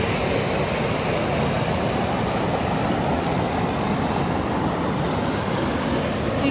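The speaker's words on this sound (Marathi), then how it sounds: "एकदम शांत आणि फक्त नदीच्या पाण्याचा आवाज." The Narmada river flows in a quiet, peaceful spot, giving a steady, unbroken rush of water that holds at an even loudness throughout with no voices.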